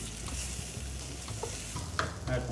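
Rice and dal mixture stirred together in a hot pot for Bengali khichuri, a close, soft scraping and shuffling with light sizzling underneath and a couple of brief scrapes standing out.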